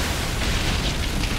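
Explosions from ships being blown up in the naval video game Skull and Bones, a dense, loud, sustained broadband roar with rumbling low end that fills the whole moment without any talk.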